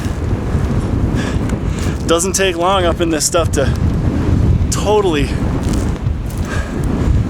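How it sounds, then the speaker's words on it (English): Strong wind in dry outdoor country buffets and roars across the microphone throughout, while someone speaks briefly and whoops over it. "It is windy and dry."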